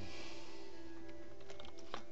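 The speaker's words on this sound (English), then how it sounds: "Typing is worse than normal at the moment." Scattered clicks of typing on a computer keyboard, a handful of quiet keystrokes in an irregular rhythm over a faint steady hum.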